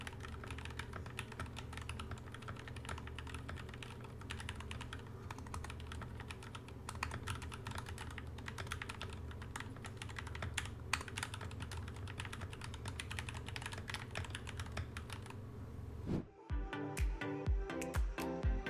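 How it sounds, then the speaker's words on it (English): Fast, steady touch typing on a computer keyboard during a practice session, with dense, rapid key clicks close to the microphone and a brief pause near the end before a few more keystrokes. "we're just gonna be using monkey type and practicing for about 20 minutes before doing our final typing test"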